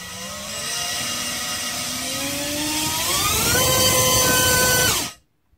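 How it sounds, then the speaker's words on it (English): A DYS 1306 4000kv drone motor spinning a Rotorex tri-blade prop whines steadily, its pitch climbing in stages to a loud high-speed scream before cutting off sharply near the end. "Here's the 4000 kV motor with the Rotorex tri-blade prop."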